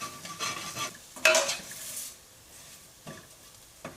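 Chilli powder and garam masala are stirred into mutton curry in a pan with a spoon, giving a few short scraping bursts over a faint sizzle in a quiet kitchen.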